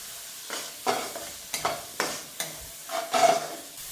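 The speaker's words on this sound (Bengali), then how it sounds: "মশলাটা আমি ভালোভাবে কষিয়ে নেব।" A spice paste with chili powder and turmeric stir-fried in a pan, with a soft steady sizzle broken by repeated scraping strokes of a spoon at an uneven rhythm, close and without any talking.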